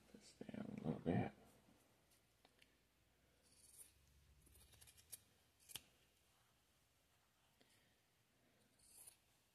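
Scissors snipping through fabric while sewing a purse with a zipper, a close loud crunching cut at the start followed by faint handling clicks, with someone speaking nearby.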